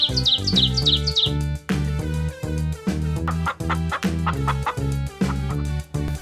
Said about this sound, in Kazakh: Мысық тауыққа барады.